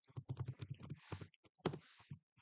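Close, quick keystrokes on a computer keyboard come in short bursts with brief gaps, crisp and clicky.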